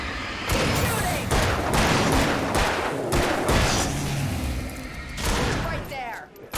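Gunfire in the video game Alan Wake, a rapid series of loud sharp shots bursting over a noisy fight, with voices shouting in between.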